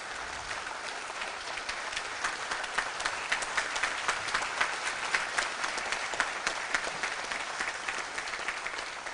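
Sustained applause from a large audience at an official courtesy call for the Nigerian Senate President, dense steady clapping filling the space without pause, fairly loud and even throughout.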